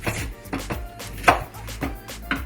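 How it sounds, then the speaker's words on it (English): Onion pieces being chopped with a knife on a board in a home kitchen, a few distinct close knocks spaced roughly half a second apart with faint background noise. "we're going to go ahead and cut up some pieces of onion as well to put in the blender"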